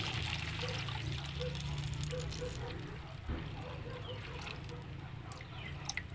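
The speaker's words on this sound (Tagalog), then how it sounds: "At lalagyan na rin po natin siya ng tubig." Water poured into a cooking pot for boiling freshwater prawns in a provincial kitchen, a steady trickling stream under a low background hum with faint speech.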